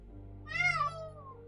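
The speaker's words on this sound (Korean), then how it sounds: "고양이잖아." A cat meows once in the Sherlock Holmes Chapter One video game, a clear, rising-then-falling mew lasting under a second against a low background hum.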